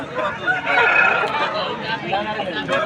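Roosters and chickens at a poultry market in Vijayawada, with clucking and crowing calls mixed into a busy, continuous crowd murmur; people talk nearby throughout.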